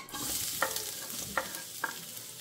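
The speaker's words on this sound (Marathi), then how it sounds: "सो कांदो न्ही जस्ट आमकां 1 मिनटां फ्राय करून घेवंक जाय" Chopped onion frying in a little oil for momos, a soft, fairly faint sizzle with three distinct scrapes of a spoon stirring the pan, spaced out and close by.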